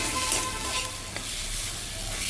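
Spice masala fries in a pan with a close, steady hiss and sizzle, and stirring scrapes and rustles through it without pause.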